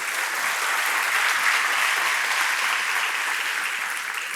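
Church congregation applauding during a Portuguese-language sermon, a thick, even roar of clapping from a large crowd, sustained and loud from start to finish.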